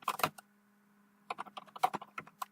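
Bursts of computer keyboard typing, a quick cluster of keystrokes, a pause of about a second, then another irregular run of clicks, close and crisp with no talking.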